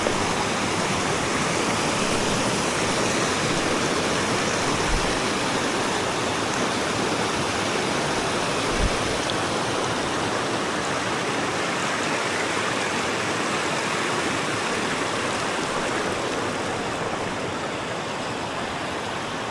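A mountain river on the Mount Rinjani trail between Sembalun and Torean rushes steadily, a dense, unbroken wash of water noise with no voices.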